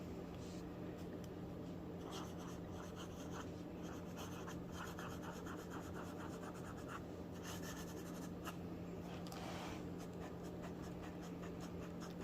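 A fountain pen loaded with Ferris Wheel Press FerriTales ink scratches steadily across thin onion skin paper, with soft continuous scribbling strokes and short pauses, faint and close over a low background hum.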